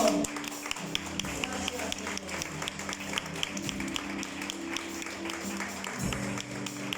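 A church congregation claps in praise, a soft, steady ripple of applause that continues for several seconds beneath a low sustained tone.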